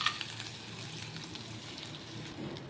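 Whole spices sizzle in melted butter in a wok as tempering for a home-style chicken stew, giving a close, steady hiss that crackles on without pause or voices.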